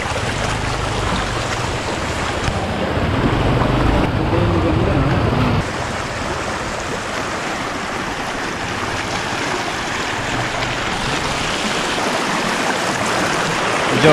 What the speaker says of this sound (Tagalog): Medyo malakas nga lang yung current ng tubig.